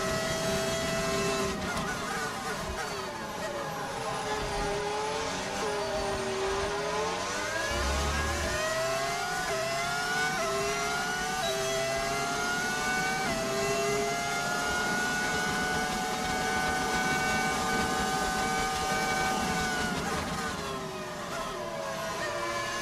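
Formula 1 cars in F1 25 scream through a race, high engine notes sweeping up and down with gear changes, a steady loud whine running continuously, with rain expected later.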